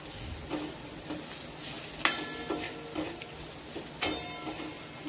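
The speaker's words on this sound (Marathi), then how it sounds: "कोथिंबीर पण टाकल्यानंतर त्याला छान अशी मिक्स करून घ्यायची" A spoon scrapes and stirs potato curry tempering with fresh coriander in a pan, soft sizzling underneath and a few sharper scraping knocks spaced a second or two apart, close and fairly quiet.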